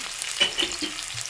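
Small shallots fry in a home kitchen pan, giving a soft continuous sizzle broken by a couple of brief stirring scrapes, close by and with no voices.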